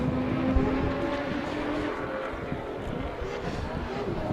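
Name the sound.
drift race car finishing a lap at Pukekohe Park Raceway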